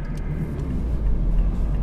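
A Lotus Evora Sport 410 with a manual gearbox accelerates, heard from inside the cabin as a loud, steady low engine rumble and drone that builds slightly with no talking over it.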